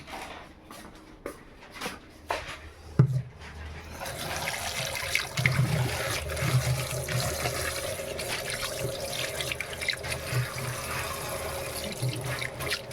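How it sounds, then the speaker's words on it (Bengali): Tap water runs into a sink while leafy greens are washed for a mixed vegetable dish. After a few soft knocks and clatters, a steady, close gush of flowing water begins partway through and continues to the end. "শাকটা কাটা হয়ে গেছে দাও শাকটা ধুয়ে নিই ধুয়ে বসিয়ে দিই"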